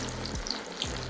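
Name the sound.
kaari kebabs frying in oil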